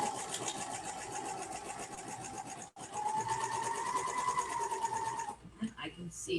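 Overlocker stitching a blindstitch through fabric, a steady close mechanical whir with a brief stutter midway that runs for about five seconds, then stops, leaving quiet handling noises.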